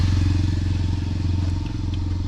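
A motorcycle ridden by a Narmada parikrama pilgrim runs with a close, steady, throbbing engine rumble, with faint rattles over it throughout.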